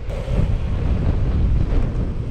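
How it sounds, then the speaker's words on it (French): Strong northerly crosswind roaring over a cyclist riding an ultra-distance route in western France, a loud, continuous low buffeting rumble across the microphone that never lets up. "Il y a tellement de vent qui m'arrive de nord là, de la gauche."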